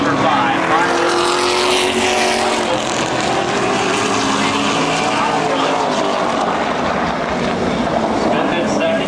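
Race cars roaring around the Midvale Speedway track, a loud continuous engine drone with passing pitch sweeps, close and steady throughout, with announcer commentary over it.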